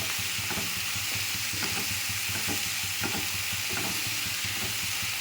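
Mushrooms cooking in a pan, releasing their water, with a constant dense frying hiss filling the whole stretch and faint clinks of stirring underneath.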